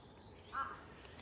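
A single crow's caw, short and fairly faint, rings out once from a distance in a Tokyo cemetery park over quiet ambient hiss.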